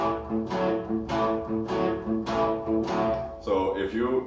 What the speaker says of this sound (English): you're applying something that's called the shuffle groove